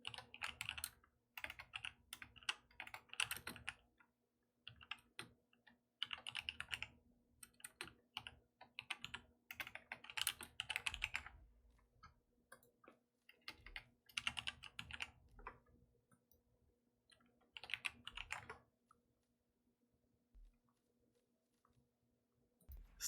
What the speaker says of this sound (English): Please excuse my typing.